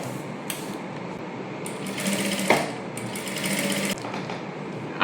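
A sewing machine topstitches the lining of a child's silk princess-cut blouse, running in close, rapid, uneven bursts with short pauses between stitching runs.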